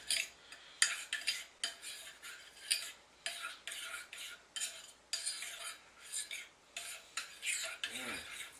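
Garlic powder mixed into a donair meat mixture, a steady run of rhythmic scraping stirs, about a dozen strokes close up and evenly spaced, with no talking.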